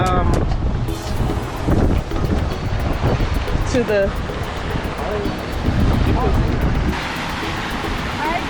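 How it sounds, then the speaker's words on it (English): Cold wind blows near the Anaheim theme park entrance, a constant rushing roar pressing on the microphone throughout, with people's voices faintly mixed in and the wind easing slightly toward the end. "The wind is blowing."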